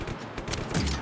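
A single sharp, loud sniper rifle shot from the Just Cause 3 game cracks out with a short booming tail, heard close and alone.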